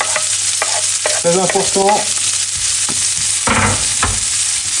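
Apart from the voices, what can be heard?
onions frying and being stirred in a pan for a panini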